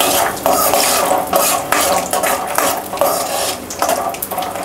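Peanuts roasting in a pan for bhel puri are stirred with a utensil, giving repeated scraping and rattling strokes against the metal over a faint sizzle, close and fairly loud.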